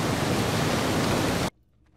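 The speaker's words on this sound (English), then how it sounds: "Look behind the waterfall" Loud, dense rushing waterfall noise for a school project on Aeolus Island, steady for about a second and a half and then cut off abruptly into near silence.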